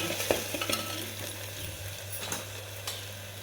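Onion, garlic and ginger paste fries quietly in a pan while a utensil stirs it, soft scraping clicks and taps scattered over a faint, steady sizzle and a low hum.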